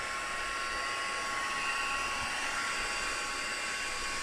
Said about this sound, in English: I don't think it matters how many times you do heat embossing, it's always like magic.